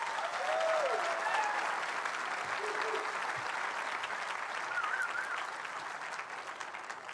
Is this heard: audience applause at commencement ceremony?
yes